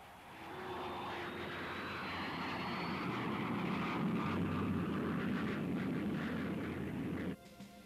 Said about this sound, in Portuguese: aviões para grandes altitudes, como este U-2 americano